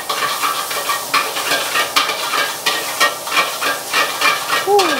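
Dumplings and fried noodles with sambal being stirred and mixed, a steady scraping stir with a soft sizzle and hiss underneath, fairly close and continuous.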